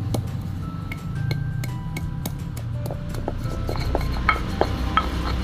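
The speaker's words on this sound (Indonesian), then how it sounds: "tak gerus dulu bumbunya oke mari kita ulek-ulek" Spices are ground by hand in a stone mortar and pestle for a fish head curry with potatoes, giving rapid irregular taps and scraping clicks of stone on stone over a steady low background hum.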